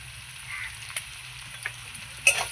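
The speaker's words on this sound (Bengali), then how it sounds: "এবার আমি পেঁয়াজটা দিয়ে দেবো" Onion dropped into a pan of potatoes already frying, a steady soft sizzle running throughout with a few sharp spits and a louder crackle near the end.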